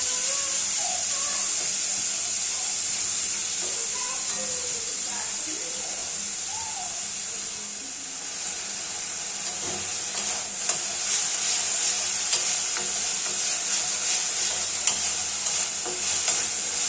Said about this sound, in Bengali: মাংসের টুকরোগুলো অনবরত নাড়াচাড়া করে এপিট ওপিট খুব ভালোভাবে ভেজে নেব